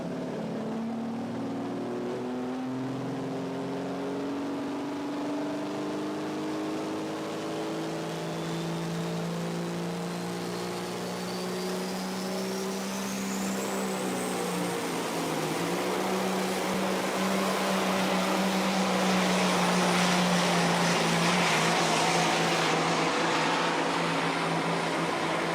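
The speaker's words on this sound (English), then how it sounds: "Cat Power single Weimer turbo on this truck." A Peterbilt pulling truck with a Cat engine and a single Weimer turbo roars through a continuous pull at a Benson, North Carolina truck-and-tractor pulling event. The engine drone climbs steadily as the turbo whine rises to a high, sustained scream.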